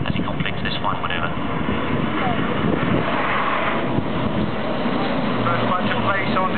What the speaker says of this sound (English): All gone quiet as the aircraft engines are brought back to idle